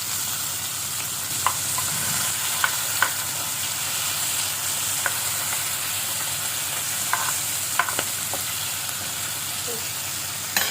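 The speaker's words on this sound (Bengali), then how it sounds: "মাছ ভাজা হয়ে গেছে, মাছগুলো তুলে নিলাম।" Spice-coated fish sizzle steadily in hot oil in a pan, a constant frying hiss broken by occasional sharp clicks and taps of turning the pieces, with no talk.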